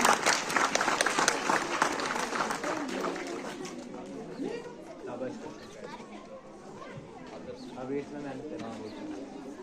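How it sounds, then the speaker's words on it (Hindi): Clapping at a school annual day and result declaration, loud at first and thinning after a few seconds into crowd chatter and talk. "लेकिन फिर भी बजा दो यार, जोर से बजाओ तालियां भाई"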